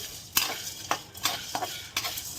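Whole spices, cloves among them, roast briefly in a spoonful of oil for a black masala, with a soft sizzle broken by several distinct scraping stirs of a spoon at irregular intervals, close and fairly quiet.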